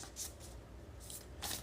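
Playing cards are riffled in quick bursts, three crisp shuffling flutters separated by brief pauses, close and fairly quiet.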